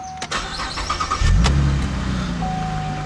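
A 2011 Chevrolet Camaro with a 3.6 liter V6 cranks briefly and catches, rising into a loud, steady idle heard close up with no talking.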